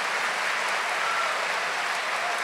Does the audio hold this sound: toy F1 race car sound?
no